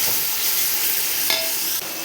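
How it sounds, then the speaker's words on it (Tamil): Onions sautéing in oil with cloves and cinnamon for a large batch of chicken biryani, a close, steady loud sizzle with a brief stirring scrape near the end. "இப்போ வெங்காயம் நல்லா வதங்கட்டும்."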